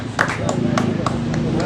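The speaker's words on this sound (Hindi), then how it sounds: "तालियां बजा करके उन्हें खुशामदीद कहें" Audience at a Samajwadi Party gathering clapping to welcome a guest, a short burst of scattered handclaps over a steady background murmur.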